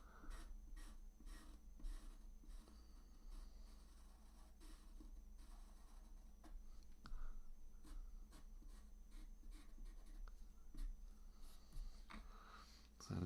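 Coloured pencil is rubbed into paper to blend, giving soft, faint scratchy strokes in a repeated back-and-forth rhythm, close and quiet with no talking.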